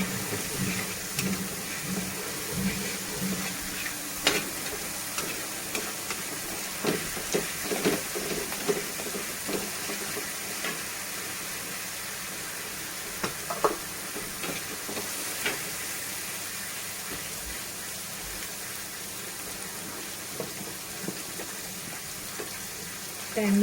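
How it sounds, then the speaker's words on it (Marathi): Tomatoes cook in oil in a pan for stuffed bombil, giving a soft continuous sizzle and hiss with occasional faint clicks of a utensil, low and steady throughout, with a voice speaking at times. "आपल्याला टॅमॅटो पण शिजून घ्यायचं आहे तेलामध्ये"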